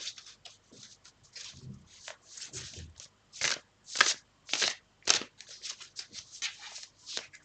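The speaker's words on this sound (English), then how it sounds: "I'm going to start shuffling the cards." Tarot cards are shuffled close up in a series of crisp riffling bursts and soft slides, irregular in rhythm, with quiet gaps between and no talk over them.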